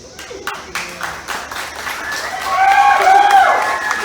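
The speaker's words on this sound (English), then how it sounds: "She said I have to soak in my applause first." Applause from an audience at a zoo sea lion show, light scattered clapping that swells and thickens toward the end, with whistle-like tones and a voice rising above the crowd noise.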